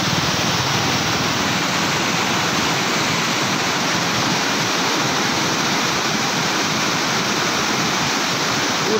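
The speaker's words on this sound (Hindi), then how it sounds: "खेड़ी वाटरफॉल वो भी बहुत जोर से आता है यहाँ" A powerful mountain waterfall crashes down near the Ganges on the route from Gangotri, a loud, dense, unbroken roar of rushing water close by, with no voices.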